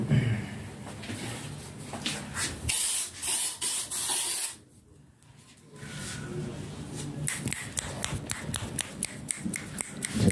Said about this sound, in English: Let me try spray it.